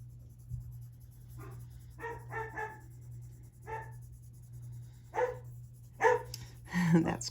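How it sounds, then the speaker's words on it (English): A Welsh Springer Spaniel barks indoors at someone out front, a series of sharp barks spaced irregularly and growing louder toward the end, over a steady low hum. "He's my Welsh Springer Spaniel. He's barking at, I think he's barking at his papa who's out front."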